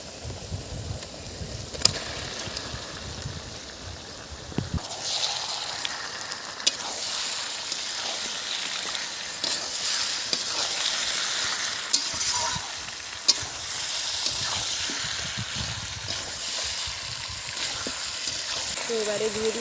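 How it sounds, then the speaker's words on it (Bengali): Pieces of country rooster meat hiss and sizzle as they are stirred into garlic paste already fried in a hot pan, a steady, close frying sound broken by scraping stir strokes. "রসুন 2 মিনিট কষে নিয়েছি, দিয়ে দিচ্ছি মাংস।"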